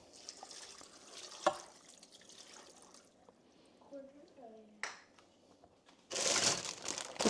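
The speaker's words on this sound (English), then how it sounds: "Then we have 2 cups water." Two cups of water are poured into a pot already holding onion and soy sauce. Scattered soft kitchen clinks and handling noises lead up to a brief, loud, splashing pour near the end.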